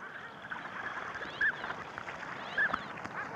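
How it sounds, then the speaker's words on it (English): Pintail ducks call twice out of a coniferous forest waterway, two short honking notes spaced about a second apart over a steady wash of background noise, with no voices. "Pintail ducks arrive,"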